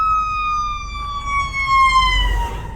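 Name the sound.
ambulance siren passing on Pacific Coast Highway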